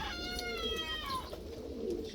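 Hungarian pigeons cooing close by, a few soft throaty coos in quick succession, fairly faint, with no voices.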